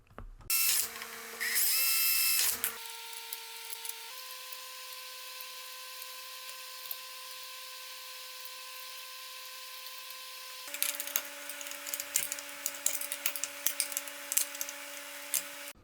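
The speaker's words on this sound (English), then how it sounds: "Then I drill all 6 holes out" A power drill bores out holes in pre-drilled metal angle brackets, with a high whining bit that starts and stops in several bursts, a steady middle run and some rattling at the end, close by and with no talking.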